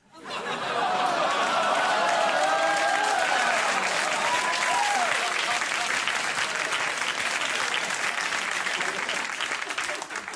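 A late-night TV studio audience erupts into loud, sustained applause with whoops, cheers and some laughter mixed in, rising fast and holding strong before easing slightly near the end.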